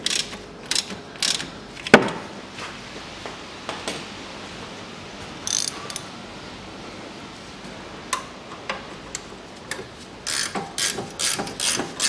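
A hand ratchet clicks in sharp bursts while loosening bolts on the engine of a 2003 Mitsubishi Colt 1.5, with short runs of rapid ratcheting separated by pauses, close and fairly loud.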